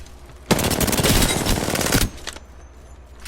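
An R99 submachine gun fires in a video game, one loud burst of rapid automatic shots lasting about a second and a half, then a few faint trailing clicks, with no talk.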